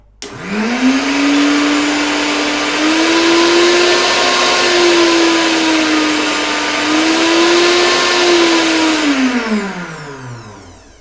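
A Zpline countertop stationary blender runs for about nine seconds: a loud, steady motor whine that spins up, holds with slight wavering pitch, then winds down, with no talking.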